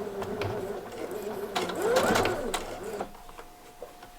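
Sewing machine stitching a knit V-neck band onto a bodice, a close steady whir for about three seconds before stopping.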